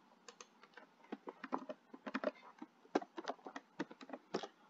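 Password typed on a computer keyboard: quick irregular bursts of light key clicks, close and fairly quiet, with short pauses between runs and no talking.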